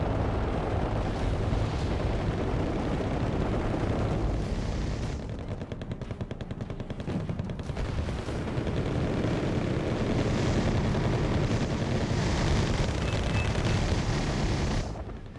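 Continuous roar of A-10 rocket strikes and explosions in the WarGame AirLand Battle video game, a dense rumbling barrage that holds steady throughout with a brief dip in the middle.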